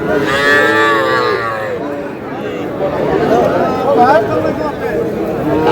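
A young bull calf lets out loud, drawn-out moos up close at a busy cattle market, with people chattering in the background.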